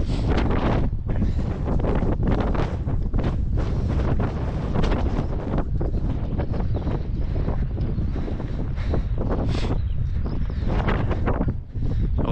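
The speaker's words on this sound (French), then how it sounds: "Là, il y a beaucoup de vent, hein, rien qu'ici." Strong wind buffets the microphone on a mountain trail in the Massif Central in July, a loud, continuous roar with gusty surges throughout and no voices.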